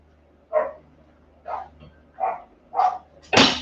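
A dog barks five times at roughly even intervals, fairly close and loud, the last bark the sharpest, in a kitchen where a haddock and chorizo paella is cooking.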